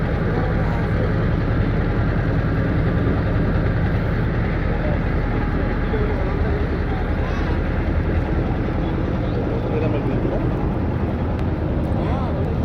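A boat engine runs on the Turag river, a steady loud drone with low rumble continuing throughout, with voices of passengers talking over it.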